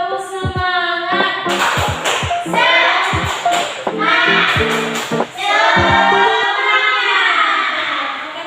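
Classroom group doing rhythmic 'tepuk semangat' cheer clapping, a patterned sequence of claps in bursts with children's voices chanting and shouting throughout, loud and close.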